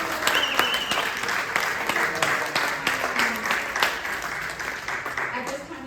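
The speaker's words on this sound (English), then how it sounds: "Another round of applause for the At" Sustained audience applause for a guest speaker at a talk, steady dense clapping from a crowd filling the whole stretch, with a voice briefly audible over it.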